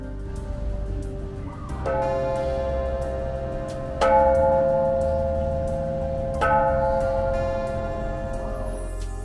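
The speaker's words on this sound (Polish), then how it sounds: "Są tu też charakterystyczne dla buddyjskich świątyń dzwony." Bells at a Buddhist temple in Phetchaburi, Thailand, ring out in several clear, resonant strikes a couple of seconds apart, each leaving a long shimmering tone that decays over a low background rumble.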